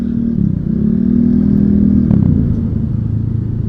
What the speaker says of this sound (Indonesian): Parung macet lagi aja.